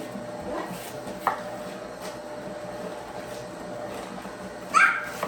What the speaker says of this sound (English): I just chop them into quarters, just like this